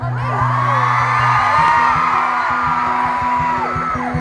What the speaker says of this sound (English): you guys are still screaming so loud